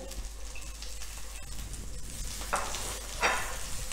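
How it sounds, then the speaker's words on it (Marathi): Garlic roasting in a pan over a low gas flame, a steady soft sizzle and crackle with a few sharper bursts of frying, close and alone. "आता त्याचबरोबर लसूण भाजून घ्यायचं"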